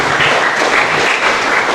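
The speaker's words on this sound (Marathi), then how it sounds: "आपण जोरात टाळ्या वाजून त्यांचं अभिनंदन करूया." Applause from a church congregation, a short dense burst of many hands clapping together at steady loudness.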